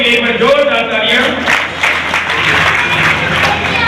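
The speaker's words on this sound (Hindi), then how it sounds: "एक बार सभी लोगों के लिए जोरदार तालियां।" Loud, dense applause and crowd noise from many people at an educational camp gathering, sustained clapping that continues without a break.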